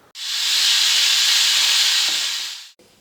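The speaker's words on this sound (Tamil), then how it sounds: "ரெண்டு விசில் விட்டு ஆஃப் பண்ணிக்கலாம்" A pressure cooker whistle: a steady, loud hiss of steam rushes out for about two and a half seconds while cooking mutton, then cuts off abruptly.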